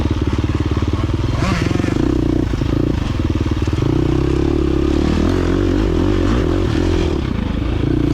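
A 2023 KTM 350 dirt bike engine buzzes loud and close on a tight, twisty pine-forest hare scramble trail, its revs rising and falling with clattering, and speech faintly under it.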